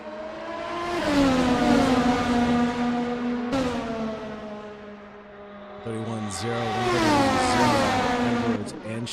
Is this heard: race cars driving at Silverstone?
yes